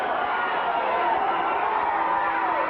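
A wrestling crowd at a match cheers in a steady, fairly distant roar of mingled voices that holds level for the whole few seconds.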